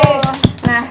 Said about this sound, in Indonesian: Tepuk tangan dulu sekali lagi buat ke-6 narasumber kita yang keren-keren.